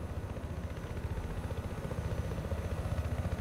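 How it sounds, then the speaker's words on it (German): A helicopter in the video game Battlefield Hardline hovering at one height, a low, steady pulsing rotor thump that sounds muffled and moderately distant. "Der Helikopter gewinnt gerade gar nicht an Höhe."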